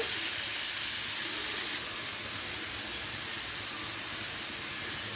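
Green beans hit hot oil in a pan with a loud burst of hissing sizzle that settles into a steadier, slightly quieter frying hiss.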